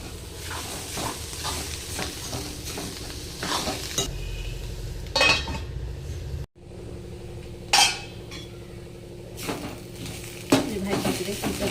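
Bitter gourd vegetable sizzling in a pan while a spatula stirs and scrapes it, with repeated metallic clinks and scraping strokes over a steady frying hiss, close and moderately loud; a brief lull midway before the stirring resumes.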